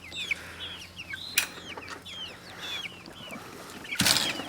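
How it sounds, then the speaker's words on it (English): Chickens clucking in a coop, several birds calling in short, rising chirps and clucks at moderate distance, with a couple of sharp thumps or wing flaps breaking through. "So we're first heading over here to the chickens to check on them to see how they're doing."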